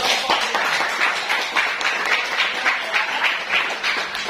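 Students in a mathematics classroom clap for a presenting group, a lively, fairly loud burst of many hands clapping close by, sustained evenly throughout.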